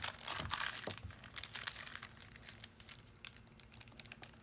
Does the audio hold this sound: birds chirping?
no